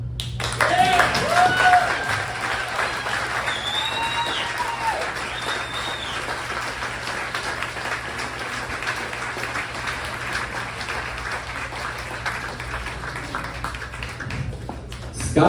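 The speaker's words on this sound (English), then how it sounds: "Round of applause." Audience applause at an event, a steady wash of clapping that peaks in the first two seconds and then carries on evenly for the rest, with some talk heard faintly over it.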